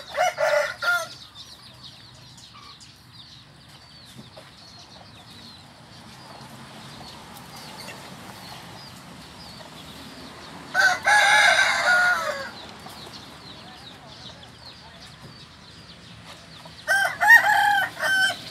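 A five-month-old young fighting rooster crows three times, loud and close, with a quiet gap of low background noise between the first crow and the next two.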